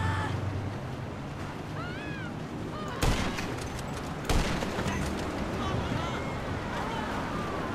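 Gunfire in GTA 5 Online during a Christmas car show, two sharp shots a second apart cutting through steady wind and engine noise while players talk.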